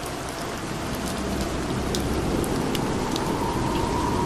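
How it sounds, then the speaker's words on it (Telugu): Heavy rain pours down in a steady, loud, unbroken hiss outdoors, with scattered sharper drop impacts and no voices. "రే వర్షం పడిపోతుందిరా"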